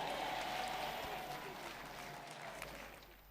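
A church congregation claps together in praise, a dense, steady wash of applause filling the room that slowly tapers off.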